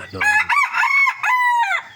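A rooster crows loudly and close by in the morning, a long strained cock-a-doodle-doo with several sustained, rising and falling notes.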